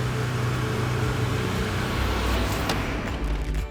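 Porsche 911 GT3 RS engine running steadily at idle, a loud, continuous low rumble close by with no talking.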